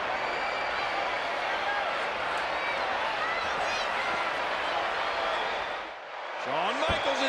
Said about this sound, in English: Listen to this crowd. Listen to this response.